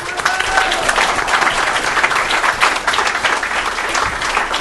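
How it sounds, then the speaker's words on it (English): A crowd at a council swearing-in ceremony gives sustained applause, dense steady clapping from many hands with some murmuring mixed in, holding at an even level throughout. "Please, let's give them a big round of applause."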